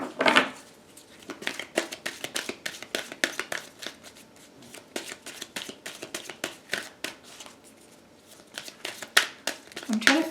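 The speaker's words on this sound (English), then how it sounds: "I'll give you a couple more shuffles" Tarot cards shuffled by hand, a steady run of rapid papery riffles and soft slaps lasting throughout, close and fairly quiet, with a voice speaking over part of it.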